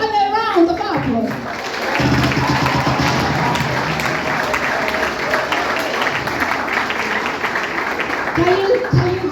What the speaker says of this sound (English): Give yourself a loud and a round of applause.